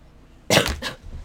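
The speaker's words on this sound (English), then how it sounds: "And I cough." A single short cough from a person, close to the microphone, made of two quick bursts followed by quiet.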